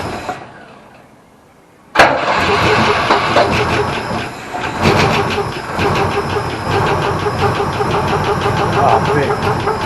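A Holden HQ Ute, unstarted for seven years, cranks after a quiet hissy lead-in, then catches abruptly and settles into a loud, rough, pulsing idle that runs steadily to the end.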